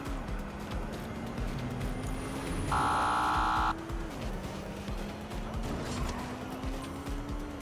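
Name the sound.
car ramming vehicle, Watch Dogs Legion video game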